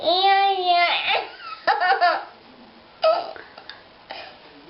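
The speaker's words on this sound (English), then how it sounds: "Did you give yourself the hiccups?" A young child hiccups several times between short bursts of babbling and speech, close and fairly loud against a quiet room.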